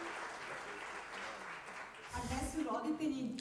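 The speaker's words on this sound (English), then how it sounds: "Can we have a round of applause for these two moms and for Silvia, who is not with us today?" Audience applause for two mothers at a parenting conference, breaking out near the end after a voice speaking, a moderate rolling clatter of hands that continues under the talk.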